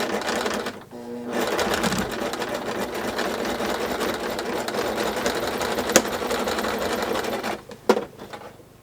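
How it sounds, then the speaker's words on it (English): A sewing machine stitches fabric for a doll quilt along a pressed ironing line, its steady motor whir and rapid needle clatter running nearly continuously and close, pausing briefly at the start and near the end. "And I'm going to sew exactly on the ironing line."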